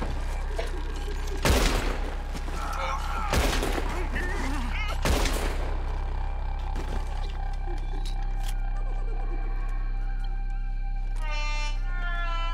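Several loud, separate gunshots in Red Dead Redemption 2 as shooters fire at the ropes, spaced about two seconds apart over a steady low rumble of ambient noise, with a horse-like whinny near the end.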